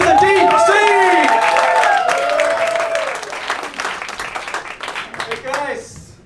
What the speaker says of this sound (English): put your hands together, start clapping for Mr. DeeCee!